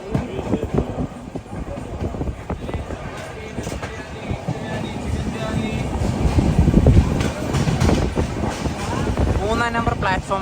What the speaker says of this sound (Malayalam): മേൽമറവത്തൂർ റെയിൽവേ സ്റ്റേഷനിലേക്ക് ഇതാ നമ്മുടെ ട്രെയിൻ